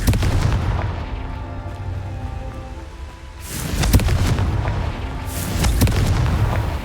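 Confringo spells explode in Hogwarts Legacy on PC, giving deep booming blasts that swell and rumble, with two stronger explosions standing out over a continuous low roar.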